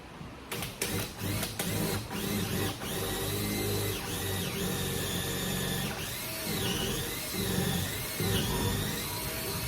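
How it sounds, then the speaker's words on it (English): A power drill bores a hole through a 2x8 board in a workshop, whining loudly with rising and falling pitch as the load changes, after a few clicks of trigger and setup. "I'm going to go ahead and drill my hole now."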